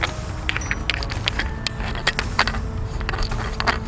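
Sectioned metal shaft of a multi-tool shovel being unscrewed, a close run of light metallic scrapes, clicks and rattling ticks, fairly loud and continuous with no talking.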